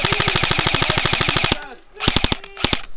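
Rapid airsoft gunfire outdoors in winter: a fast, steady burst of sharp snapping shots for about a second and a half, a brief lull, then several more quick clustered shots, loud and close.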